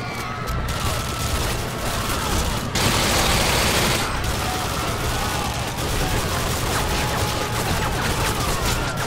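Dense, sustained automatic gunfire from the No Russian mission in Call of Duty: Modern Warfare 2 on PC, loud and continuous with rapid overlapping shots and heavy low rumble throughout.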